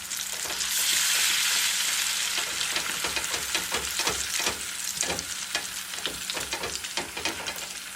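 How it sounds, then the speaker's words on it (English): Burgers sizzle loudly on a grill in a steady, close crackling hiss with frequent sharp pops throughout, and no voices. "So we're going to add 2 more burgers to our grill."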